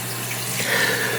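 Tap water runs steadily into a bathroom sink, a continuous close hiss and splash holding level throughout with no talking.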